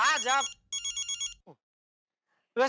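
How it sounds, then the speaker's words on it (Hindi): Indoor phone ringing in short electronic trilled bursts between snatches of conversation, the ring fairly close and clear while people talk before and after it. "तुम्हारा फोन बज रहा है"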